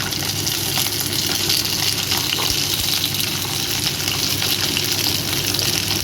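Flat beans and bottle gourd pieces tipped into a pan of frying potato and eggplant produce a loud, continuous, close sizzling hiss that stays even throughout.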